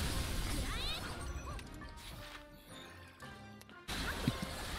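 A barricade is smashed in a video game amid dense, busy game noise and crashing impacts, with a sharp burst near the end and voices faintly mixed in.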